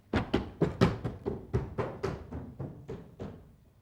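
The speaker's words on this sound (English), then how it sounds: "go back to your seat, clumping up the stairs as hard as you can go." A crowd of children in a lecture theatre stamping heavily up wooden stairs, making a run of about a dozen loud, irregular thuds that grow fainter toward the end.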